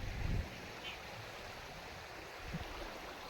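Strong flowing water from the flooded Ozat river running across village fields, a steady broadband rush throughout with a brief low-frequency surge near the start and a faint thump later.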